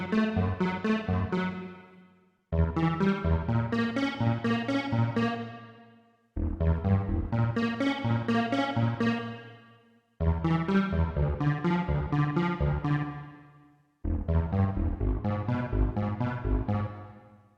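Arpeggiated synth chord from an Ableton Chord preset run through an arpeggiator, with stacked notes sounding as rapid broken-up patterns; five loud repeated phrases, each swelling then decaying, heard alone without talk.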